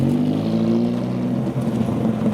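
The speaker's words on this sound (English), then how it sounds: "has floored it in the Aventador" A Lamborghini Aventador accelerating hard, a loud sustained engine roar with a steady harmonic drone throughout, close and without talk.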